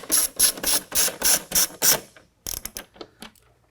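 Hand ratchet spinning out Torx bolts from the cowl of a Jeep JL (Wrangler): a fast run of loud, close clicking bursts, then a pause and a sparser, quieter series of ratchet clicks.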